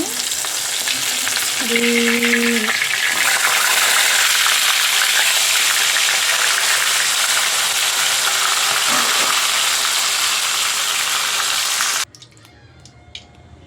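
Whole fish fry in hot oil with a loud, constant crackling sizzle that fills the scene for about twelve seconds, then stops abruptly, leaving near quiet with a few faint clicks.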